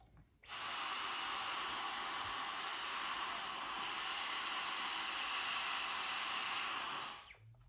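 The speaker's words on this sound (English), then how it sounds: "you can also use a vacuum" A vacuum cleaner cleaning a Breville coffee grinder: a steady, loud whooshing suction noise switched on abruptly and cut off after about six and a half seconds, with no talking.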